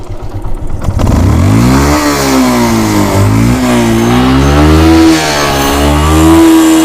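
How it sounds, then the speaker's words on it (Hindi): An old motorcycle's engine roars to life and revs hard at full throttle, the pitch rising and falling in long sweeps as the throttle is held high, loud and close, during a check of the bike's condition. "तो चलिए मैं अभी पूरी रेस पे लगा के और यहाँ पे हाथ लगा के आपको करके दिखाता हूँ।"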